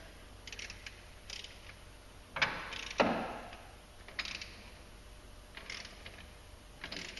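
A torque wrench tightens a clutch bolt on a Polaris 570 utility vehicle, giving faint bursts of ratcheting clicks with short pauses between them and one louder pair of strokes near the middle, in a quiet workshop.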